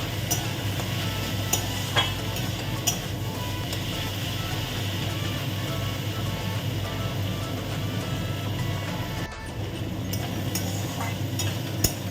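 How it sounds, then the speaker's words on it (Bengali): Onions frying for a potato and onion dish, spatula stirring the pan in repeated scrapes over a steady close sizzle, with a faint reversing beep and traffic noise somewhere outside. "তারপর আমি পেঁয়াজগুলো ভাজবো"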